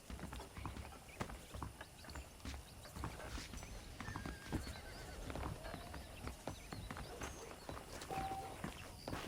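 Horse hooves clip-clop in steady walking rhythm with a few whinnies and neighs in the Western video game Red Dead Redemption, fairly faint against a busy outdoor ambience.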